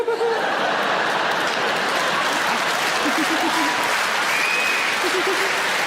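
A stand-up comedy audience breaks into dense, sustained applause that fills the room, with scattered laughter and a few voices mixed in throughout.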